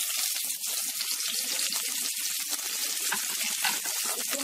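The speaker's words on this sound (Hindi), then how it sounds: "अब मैं इसमें ये प्याज डाल दूंगी" Sliced onion frying in hot oil in a pan for restaurant-style matar paneer, a steady dense hiss of sizzling throughout, close and even, with no talking.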